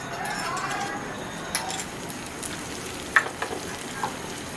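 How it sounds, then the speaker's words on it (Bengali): Chopped garlic fries in oil in a pan for garlic chicken, a steady low sizzle close by with a few sharp clicks and taps of stirring, and no talk. "রসুনটাকে একটু ভেজে নিই। তারপরে রসুনটা হালকা ভাজা হয়ে গেছে।"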